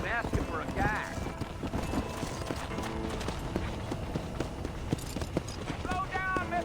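Horses galloping in the video game Red Dead Redemption, rapid rhythmic hoofbeats running continuously under a man's dialogue, with music and occasional higher tonal sounds in the mix.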